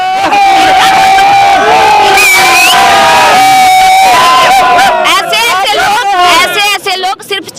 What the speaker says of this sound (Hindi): ऐसे लोग सिर्फ चिल्लाकर लोगों को चुप कराना जानते हैं।